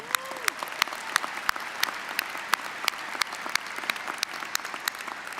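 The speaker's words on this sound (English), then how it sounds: "Let's give them a round of applause." Scattered, moderate applause from a commencement ceremony audience, sharp individual claps rising over a soft crowd murmur for several seconds.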